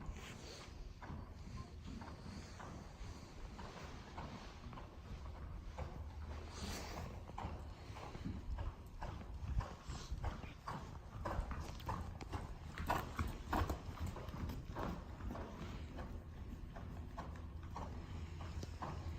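Horse hooves clip-clop through a dressage schooling session, the rhythmic footfalls fairly faint and distant over a low background rumble, continuing for the whole stretch with no speech.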